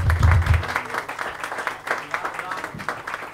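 A live audience at a metal concert gives scattered applause for the drummer, clapping and crowd noise mixed with a deep low rumble at the start and voices talking over it.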